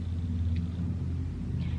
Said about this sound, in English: Let this car go by